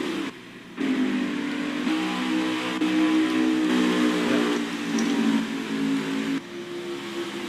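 Xfinity Series stock cars roar around Auto Club Speedway, with loud sustained engine drone and shifting pitch as several cars pass close in a pack.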